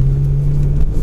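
A 2018 Audi S5 Quattro driving through snow, heard from inside as a steady low engine drone and road rumble with a constant hum, no talk.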